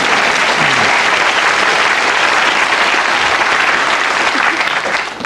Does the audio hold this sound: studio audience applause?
yes